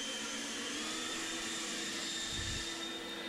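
A blower drones steadily, a constant roaring rush of air used to blow debris out, close and even throughout with no talk.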